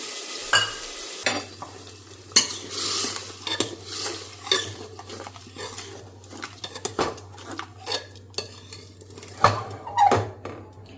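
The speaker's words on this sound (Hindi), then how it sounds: "मसाला भुन जाएगा, मटर भी उसमें हो जाएंगे" Masala and green peas fry in a pan for khichdi, with close stirring scrapes and clinks of a spoon against metal over a steady low sizzle, irregular knocks and bursts recurring throughout.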